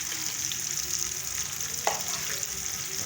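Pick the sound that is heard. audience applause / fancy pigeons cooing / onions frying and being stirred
onions frying and being stirred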